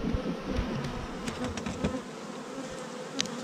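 Angry honeybees swarm near an open beehive, a dense, steady buzzing hum with individual bees zipping close past, fairly faint overall and with no talking.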